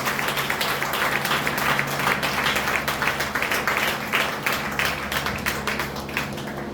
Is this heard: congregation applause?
yes